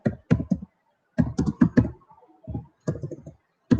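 Computer keyboard keys clatter while someone types Python code, the close, crisp clicks falling in quick clustered bursts separated by short pauses, with no one talking.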